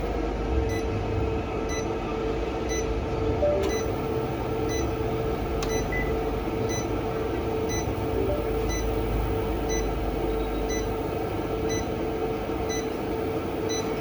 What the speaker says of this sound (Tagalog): Nag-a-alarm siya kasi pinatay ko yung battery.